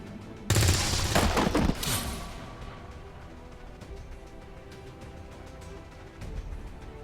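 XCOM 2 soldiers open fire in a sharp, loud burst of automatic gunshots lasting just over a second, then a fading crash gives way to a quiet tactical lull.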